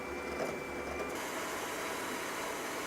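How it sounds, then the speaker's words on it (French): A food processor whips egg whites for tiramisu with a steady, even mechanical whir, continuous and close, alone with no talking. "je lance le blanc en neige ici dans le robot"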